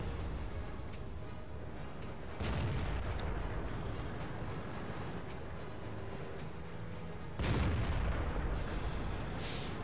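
The main gun of a Pz.Sfl. IVc tank destroyer in a tank battle game fires twice, heavy booming blasts several seconds apart over a steady engine rumble, with no voice.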